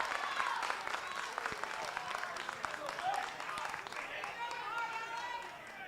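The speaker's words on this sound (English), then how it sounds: "Crowd getting loud here." Baseball crowd at a junior college regional tournament game cheering loudly, a sustained roar with scattered claps and whistles, with a voice talking over it.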